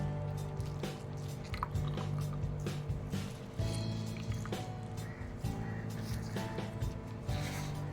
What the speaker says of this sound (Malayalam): ഇതുപോലെ നല്ല വൃത്തിയായിട്ട് പിഴിഞ്ഞെടുക്കണം പിന്നെ ഉള്ളത് ഒരു തുള്ളി വെള്ളം പോലും ഇല്ലാതെ പിഴിഞ്ഞെടുത്ത്